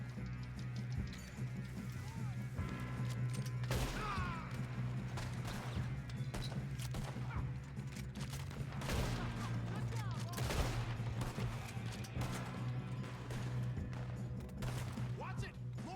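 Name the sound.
gunfire in video game Red Dead Redemption 2 train robbery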